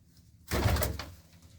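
A pigeon's low, breathy coo swells up nearby after a moment of quiet, then fades out, among racing-pigeon chicks.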